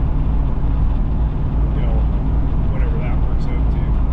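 A 1983 Pontiac Parisienne with a lockup converter cruises at highway speed near 2,200 RPM, giving a steady low engine drone and road rumble inside the cabin while someone talks over it.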